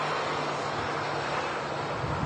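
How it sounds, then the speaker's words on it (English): Airbus A220 with Pratt & Whitney geared turbofan engines advancing throttle at Manchester Airport, a steady broadband roar with a faint sustained tonal hum, heard at a distance under wind noise. "Wookie howl from the Pratt & Whitney engines on board"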